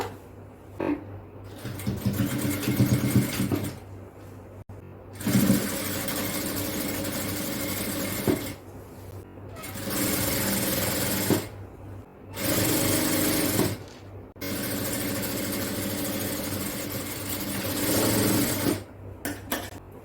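Sewing machine stitching the side seams of a child's frock night dress with a half-inch seam allowance, running in several steady bursts of a few seconds each, separated by short pauses.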